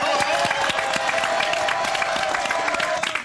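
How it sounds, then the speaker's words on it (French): Studio audience applause and light cheering on a French television variety show, a dense, steady wash of clapping that holds at even loudness throughout. "Applaudissements."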